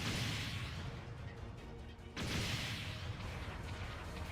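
A loud, dense burst of explosion noise from the Gundam Battle Operation 2 video game, with a brief drop-off and then a fresh blast of rumbling, crackling debris that continues to the end.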